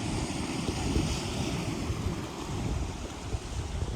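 Sea water rushes and churns steadily at Shivrajpur beach near Dwarka, a loud continuous surf roar with some wind buffeting the microphone.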